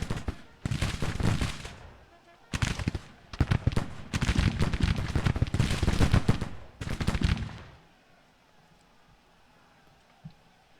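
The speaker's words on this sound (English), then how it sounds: "Now they're starting to fire back." Musket volleys in a Grand Tactician: The Civil War battle at Fort Scott, Kansas: several loud, dense bursts of rolling gunfire crackle back to back for about eight seconds, then cut out into near silence with one faint late pop.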